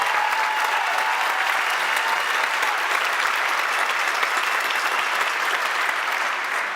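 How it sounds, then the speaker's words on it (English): Steady, sustained applause from a large crowd at a graduation ceremony, clapping continuously at an even level throughout. "Let us applaud you"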